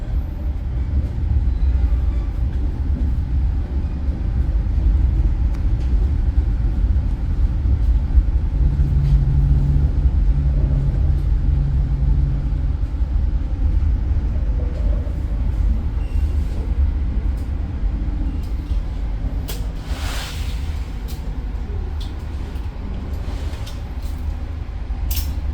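Taksaka Luxury train pulling into Gambir station in Jakarta on track 4, a steady low rumble of rolling carriages with a brief tonal squeal of brakes midway and sharp clanks near the end, continuous and close.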